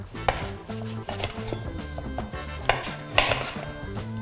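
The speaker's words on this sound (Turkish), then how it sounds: "Kestiğiniz kerevizleri hızlı bir şekilde hemen küp küp doğrayacaksınız" A chef's knife chops celery into cubes on a cutting board in a quick, steady series of sharp, close thuds, with a few brighter knocks and a faint low hum underneath.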